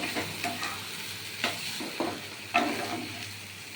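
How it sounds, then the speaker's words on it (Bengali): A tomato paste masala for prawn curry sizzles steadily in a pan while a spoon stirs it, with several scraping clatters standing out above the continuous frying hiss. "টমেটো পেস্ট দিয়ে আবার কষিয়ে নেব"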